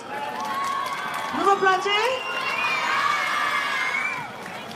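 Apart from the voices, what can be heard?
concert crowd applauding and cheering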